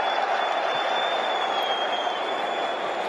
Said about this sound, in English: we're hearing the fans whistle Memphis every time he touches the ball